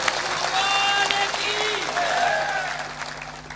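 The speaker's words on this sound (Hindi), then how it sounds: "महिलाएं तो दमदारी ताली बजा रही हैं, पीछे वाले पुरुष तो बेहोश है।" A large audience, mostly women, claps strongly at a spiritual satsang gathering, a dense continuous burst of applause that tapers slightly toward the end, with a voice faintly audible underneath.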